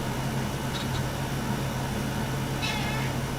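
A cat meows twice, one short call near the start and a longer one toward the end, over a steady low hum with no talking.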